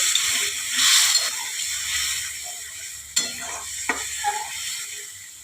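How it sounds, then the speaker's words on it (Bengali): Water is poured into a pan of sizzling gravy for a snail and potato curry. A loud hiss builds and swells, then settles into steady sizzling with a few sharp clinks near the end. "আমি একটু জল ঢেলে দেবো"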